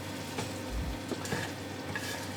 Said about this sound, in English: I'm going to add the meat in right now